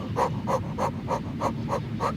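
Rapid, rhythmic breaths pushed through the mouth during a kundalini yoga exercise, about seven sharp even pulses in two seconds, close and steady, with no talking.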